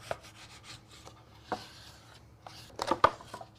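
Rubbing and scraping strokes as a Dollar Tree peel-and-stick sheet is pressed and smoothed down onto a craft surface, soft close-up friction with a few sharper taps and scuffs, no talking.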